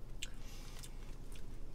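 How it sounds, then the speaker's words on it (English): Rolled tortilla chips, Doritos Dinamita Flamin' Hot Queso, being bitten and chewed close to the mic: three sharp crisp crunches about half a second apart over a low, moist chewing rumble. "You get a lot more crunch."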